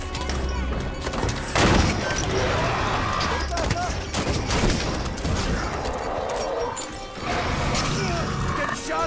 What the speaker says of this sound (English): Getting shot up here